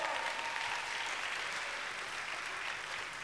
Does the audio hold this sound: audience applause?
yes